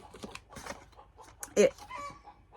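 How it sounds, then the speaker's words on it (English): A hen clucks just before laying an egg, a short run of close, fairly loud clucks with one sharp squawk near the end, heard faintly at first. "My chicken's going to lay an egg now."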